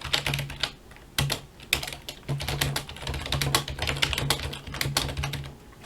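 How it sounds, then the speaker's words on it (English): Rapid clacking keystrokes on an old computer keyboard, a dense run of close, crisp clicks with irregular rhythm, and a steady low hum underneath throughout. "Let me do that keyboard test one more time."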